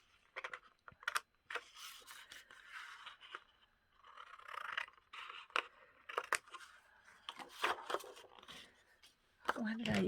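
Scissors snip out paper pieces for a holiday craft, short close crisp cuts coming in irregular bursts with quiet pauses, fairly soft throughout.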